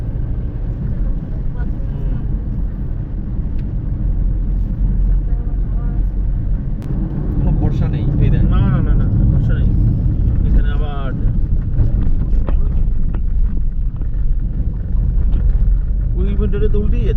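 A car travels along a highway in Bihar near Purnia on a long drive from Sikkim to Kolkata, giving a continuous, loud engine and road rumble with wind noise while a person talks over it.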